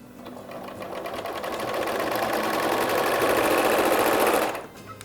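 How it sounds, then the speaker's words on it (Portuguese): A sewing machine topstitches fabric for Easter gift packaging, its rapid needle chatter building into a loud, even mechanical rattle for about four seconds before stopping. "Agora eu vou pespontar."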